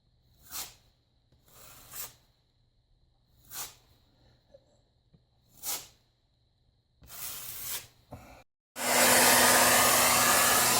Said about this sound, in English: about 10 minutes worth of blow drying